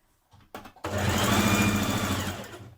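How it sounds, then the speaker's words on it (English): A sewing machine stitching channels into a maxi skirt waistband: a few short needle taps, then a steady close whirring run of stitches lasting about two seconds. "Now you're going to stitch 2 rows of stitching to form your 2 channels."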